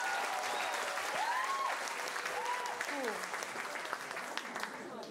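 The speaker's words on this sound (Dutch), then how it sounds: "Geef ze nog één groot applaus" An audience at a school talent performance event applauds in a long, dense round of clapping, with a few whistles and voices rising over it before it gradually thins.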